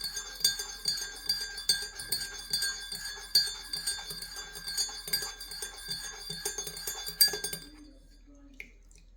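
A spoon stirs milk into a cup of British tea, clinking against the cup in a quick, regular rhythm of bright taps. The clinking runs for several seconds, then stops, leaving near silence.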